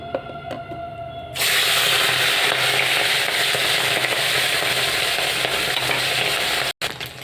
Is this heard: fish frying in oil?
yes